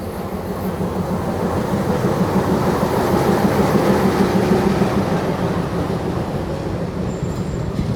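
Passenger train running from Colombo to Mirissa in Sri Lanka, heard from on board: a continuous rumbling roll with rhythmic wheel clatter, steady and close throughout, no voices.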